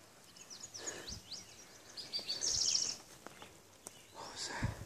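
Birds chirp in a thick forest during rain, with scattered short tweets and a brief, brighter trilling burst midway, set over a soft steady hiss of rainfall and occasional nearby rustles.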